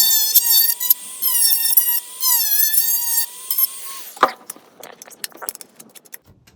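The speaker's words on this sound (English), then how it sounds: "So then we're gonna take the Dremel here," A Dremel rotary tool cuts and trims a fiberglass-reinforced sprint car body panel, a close high-pitched whine that rises and dips in pitch with load for about four seconds, then winds down into scattered clicks and handling noises.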